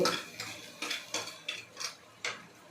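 Okra being sautéed and stirred in a pan, a spoon knocking against the metal in about seven sharp, evenly spaced clinks, close and clear with no voices.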